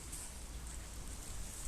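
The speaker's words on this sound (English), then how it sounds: "Look at this rain." Steady rain falls outdoors in a farmhouse yard, a continuous soft hiss of drops on surfaces with no voices, unchanging throughout.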